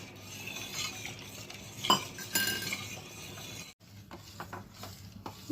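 Custard milk in a pot is stirred with a spoon off the heat, giving soft scraping and light clinks against the metal at an uneven pace. The sound is close and fairly quiet, with a few brief pauses.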